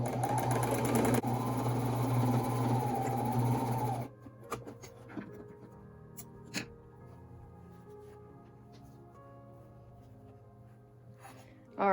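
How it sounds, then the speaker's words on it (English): A sewing machine runs steadily at close range, stitching straps onto a mock-up of 18th-century stays for about four seconds, then stops and leaves quiet room noise with a few small clicks and handling sounds. "Now I'm gonna sew the straps on."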